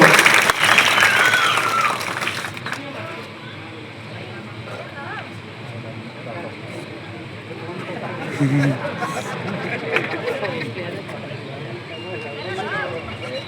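An audience at a Dr. Rajkumar birthday event bursts into loud applause that fades after a couple of seconds, and a voice then carries on talking over a faint crowd murmur.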